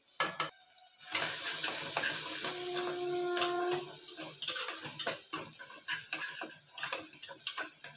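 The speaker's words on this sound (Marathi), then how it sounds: "तर आता आपण यामध्ये आपला घरगुती लाल मसाला आधी घालूया." Homemade red chilli masala spice mix dropped into hot oil while cooking misal pav, giving a crackling sizzle with stirring clatter and scattered ticks, moderately loud and close, no talk.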